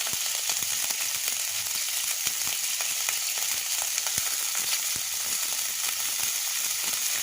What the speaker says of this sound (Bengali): এখন মশলাটা কষিয়ে নেব